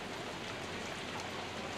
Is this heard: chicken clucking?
no